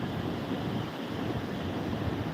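Rough sea surf churns at a harbour under overcast, windy skies before rain, a steady broadband roar with wind buffeting the microphone throughout.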